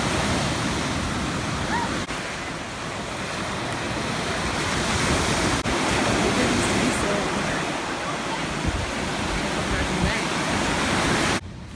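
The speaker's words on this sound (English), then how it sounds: "the waves are coming up to the shore" Steady roar of surf washing onto the shore, continuous and fairly loud, with wind rushing across the microphone.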